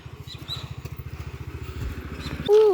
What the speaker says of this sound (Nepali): माथिबाट बाइक आयो